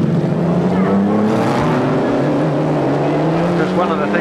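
Vintage 1956 Maserati 250F Grand Prix cars race closely through a corner at a historic race in Phoenix Park, their loud engines wailing and shifting pitch, with a commentator talking over them.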